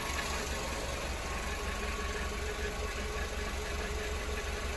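A 2007 Suzuki SX4 engine idles with a slight stumble, giving a steady, close, loud low rumble with a regular pulsing beat and faint irregular hesitation, without speech.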